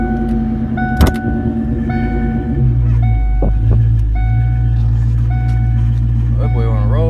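A Ford Mustang GT V8 idles steadily and rumbles nearby after a tune-up, with a chime beeping repeatedly over the low engine drone and a voice briefly talking near the end.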